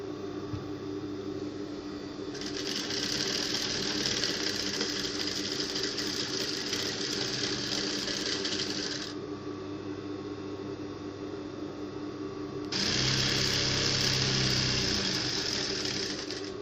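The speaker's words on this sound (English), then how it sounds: "So I'll sew these edges and finish the sides." An electric sewing machine stitches along the edges and sides of a jumpsuit in two steady runs, the first lasting about seven seconds and the second about four. A quieter background hum fills the gap between them.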